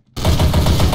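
After a brief silence, a loud burst of rapid gunshots from the video game Trouble in Terrorist Town, sustained fire for under a second with no talking.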